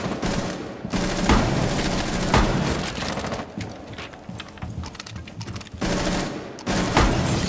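Gunshots ring out in a team deathmatch on the Chalet map of Rainbow Six Siege, with sharp rapid bursts of automatic fire in clusters, loud and close, broken by short pauses.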